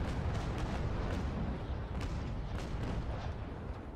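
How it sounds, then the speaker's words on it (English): Sailing-ship cannons fire a broadside in the naval combat game Naval Action, a dense run of rumbling booms and bursts that rolls on continuously at moderate loudness. "That'll fire all my cannons at once."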